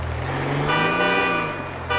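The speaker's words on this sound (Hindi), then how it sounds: "हॉर्न भी इसके अंदर वही वाला लगा हुआ है" An old Toyota Land Cruiser horn in GTA 5 sounds a steady honk that starts partway through and holds for over a second, layered over a low engine hum inside the car.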